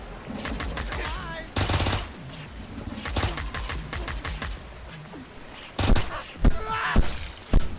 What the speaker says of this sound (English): I started firing while he was still on the ground.